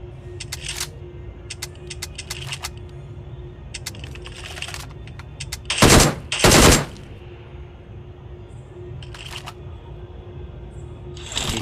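Gunfire in the mobile battle royale game BGMI, short bursts and a couple of louder automatic volleys around the middle, mixed with frequent tapping of a phone or keyboard.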